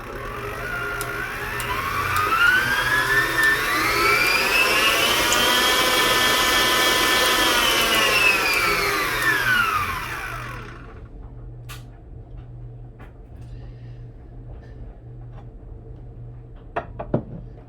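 Electric hand mixer beating butter in a bowl for cake batter, a steady whirring motor whine that rises and falls in pitch for about ten seconds, then stops, leaving faint room noise and a couple of clinks.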